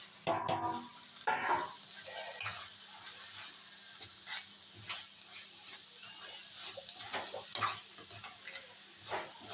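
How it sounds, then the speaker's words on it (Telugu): Tomato pieces fry and sizzle in a pan for a curry while a spoon stirs them, giving a steady close crackle broken by repeated scraping strokes and light clinks. "టమాటా ముక్కలు కూడా వేసేస్తున్నాను"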